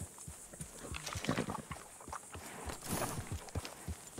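A horse's hooves clip-clop at a slow walk in Red Dead Redemption 2, a steady close rhythm of individual hoof strikes over soft ambient background.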